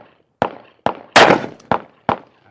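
Smith & Wesson Model 29 big-bore revolver with a 6-inch barrel fired outdoors, five loud sharp shots at roughly half-second intervals, each with a short decaying echo, no talking.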